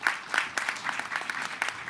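An audience at a bio summit applauds His Excellency, a steady wash of clapping from many hands with no talking over it.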